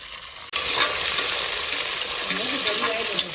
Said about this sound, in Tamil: நாலு பெரிய வெங்காயம் கட் பண்ணி வச்சுருக்கேன் பெரிய வெங்காயம் போட்டுக்கலாம்